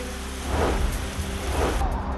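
Steady heavy rain pouring down in a dense wash, flooding streets in Alegaon, with a low rumble underneath.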